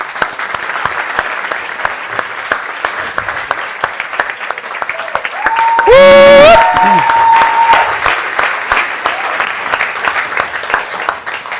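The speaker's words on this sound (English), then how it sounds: "a round of applause for our musician" Audience applause at a TEDx event in Lisbon greets a Portuguese fado musician: steady clapping throughout, swelling louder near the middle, with a sung note and brief voices rising over it before the clapping settles back.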